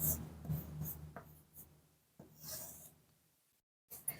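A pen scratches numerals onto paper in a few short bursts, near and quiet, with pauses between strokes.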